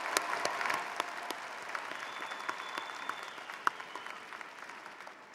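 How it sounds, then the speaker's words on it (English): Graduation commencement audience applauding a bagpipe pipes-and-drums band, a steady wash of many hands clapping at moderate distance with a few sharper nearby claps, sustained throughout. "let's give them a round of applause"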